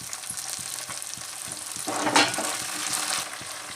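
Curry leaves fry in hot oil in a pan, a close, loud crackling sizzle under rhythmic stirring taps that flares up sharply midway.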